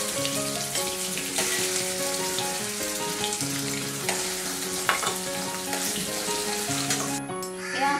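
Paneer pieces fry in a pan, giving off a steady, continuous sizzle that stays partly masked beneath a prominent bed of background music throughout.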